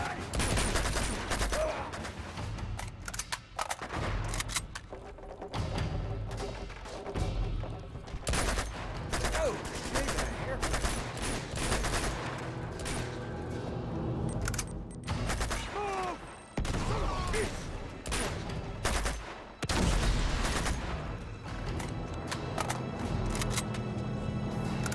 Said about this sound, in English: 边跑边开枪，哎，他是三发的。